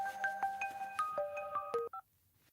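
A new mobile phone gives a quick run of electronic keypad beeps at different pitches, about a dozen evenly spaced tones ending in a brief double chirp, then quiet room tone.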